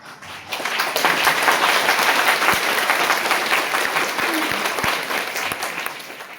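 Sustained applause from a seminar audience in Ayodhya, many hands clapping loudly and steadily throughout, with a dense, even roar that thins slightly toward the end.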